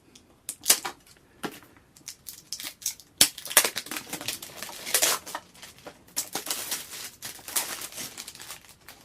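Crinkling cellophane torn and peeled off a stack of old, unopened 5¼-inch floppy disks, close and bright, with bursts of crackling and crumpling that come in uneven clusters and briefly pause before resuming more densely.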